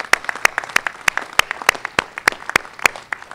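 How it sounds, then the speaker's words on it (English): A small crowd claps at a brewery announcement event in Richmond, Virginia. Sharp, distinct handclaps sound in an irregular, moderately paced patter that stays fairly close and sparse. "So I'm going to lead a round of applause for that"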